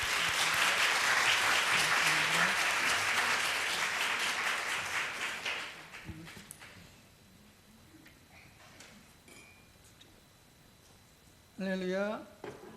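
A large church congregation of several thousand claps loudly in welcome for the pastor, a thick wash of applause that fades out midway, followed by quiet room sounds and a brief burst of talk near the end.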